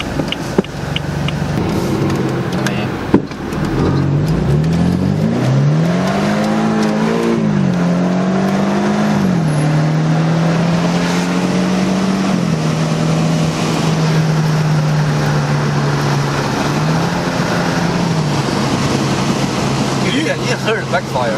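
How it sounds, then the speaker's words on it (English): A 2014 BMW 328i with a homemade muffler delete accelerates hard with a rising, rasping exhaust note that climbs and holds through the gears, loud and close, with occasional pops and people talking over it. "You can hear the backfire."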